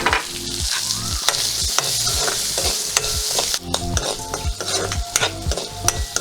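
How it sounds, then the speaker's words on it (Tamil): Fenugreek seeds and onion fry in hot oil while a spatula stirs the pan, producing a steady sizzle punctuated by rhythmic scraping strokes and occasional metallic clicks, close and clear. "வெந்தயம் கொஞ்சம் பொரிஞ்சு வந்துட்டுது, வெடிக்குது."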